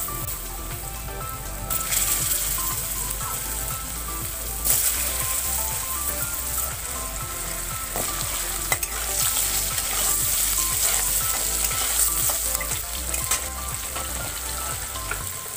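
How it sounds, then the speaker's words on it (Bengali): Potatoes fry in hot oil for a fish kalia, a dense, continuous sizzle with occasional louder crackles and stirring scrapes, steady and close throughout. "তো আমি এবার আলুগুলো ভেজে নেব লাল করে।"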